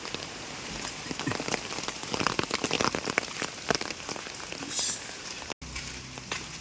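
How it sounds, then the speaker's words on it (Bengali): Rain keeps falling on a street while someone walks under an umbrella, a close crackling patter of drops with sharper individual taps, steady throughout apart from a momentary break near the end. "বৃষ্টি পড়েই যাচ্ছে"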